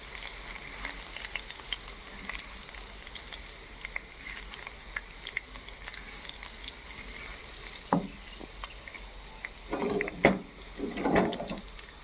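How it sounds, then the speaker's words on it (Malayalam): Pickle mixture for a bone setter (changalamparanda) pickle being stirred in oil over a low flame, a faint steady sizzle broken by a few soft scraping stirs near the end. "നമ്മൾ ഇപ്പോൾ തീ കുറച്ചിട്ടാണ് ഇളക്കുന്നത്"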